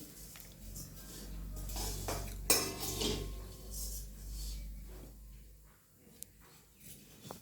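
Semolina vermicelli (shevaya) dry-roasting in a pan, with a spatula scraping and clinking against the metal in steady, close strokes, quieter toward the end.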